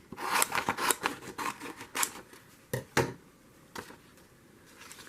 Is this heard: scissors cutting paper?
yes